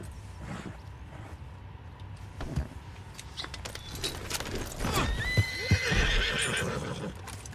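A horse in the video game Red Dead Online neighs and whinnies over clip-clopping hooves and jangling tack, fairly close, with a few sharp ticks and rustles mixed in and no talk.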